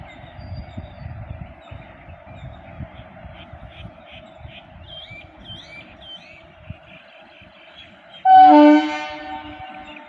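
Passenger train pulling into Thirunallar railway station, its low rumble and clatter building steadily before a loud, sustained horn blast near the end, with outdoor ambience and some people talking faintly in the background.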